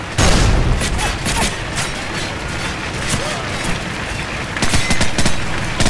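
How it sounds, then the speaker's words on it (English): A flashbang grenade bursts and gunfire rattles in Call of Duty Modern Warfare, opening with a loud blast and continuing as dense, overlapping shots and booms, with voices in the mix. "Flashbang out."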